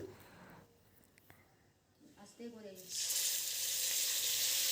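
Tomato, chili and ginger paste hits hot oil for a khichuri and starts a loud, bright sizzle that holds steady to the end. Before it, a quiet stretch carries a brief murmured voice.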